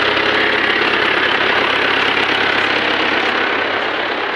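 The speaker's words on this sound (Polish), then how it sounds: "Wycina powoli, bo jest mało gazu dane." A John Deere 2130 tractor at low throttle drives a block cutter slicing corn silage, a loud, steady, close engine drone with a knocking mechanical rumble and no pauses.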